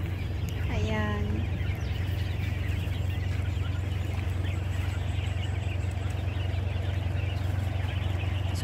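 Quails in delivery crates cluck and chirp faintly over a constant low engine hum, with one clearer call rising early on, and a person speaks nearby.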